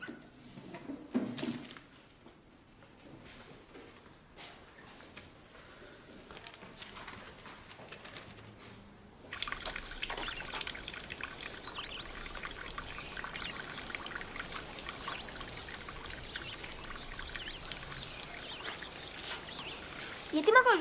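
Water trickles and splashes steadily from a school drinking fountain, a soft continuous stream that starts partway in, with faint talk and background noise before it.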